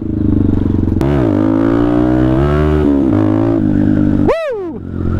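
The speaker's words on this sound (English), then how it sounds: "First wheelie of the day, we are here." Benelli TNT 125 motorcycle engine revving hard for a wheelie, a loud close buzzing tone that climbs and dips through several revs, then a sharp high rising whine before the engine drops back.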